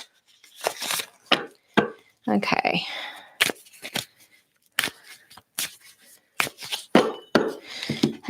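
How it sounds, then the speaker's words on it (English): Large, textured tarot cards being shuffled by hand in repeated quick riffling bursts, close and crisp, with a brief spoken word in between. "I'm just going to shuffle these cards a little bit"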